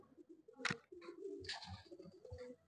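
Soft, low cooing from pigeons, a few rounded calls close by, broken by a couple of sharp rustling noises.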